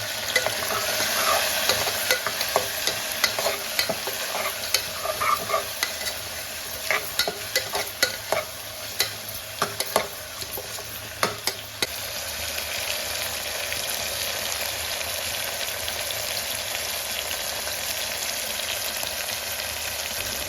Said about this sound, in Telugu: బాగా కలుపుకుంటూ ఫ్రై చేసుకోవాలి.